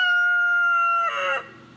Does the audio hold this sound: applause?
no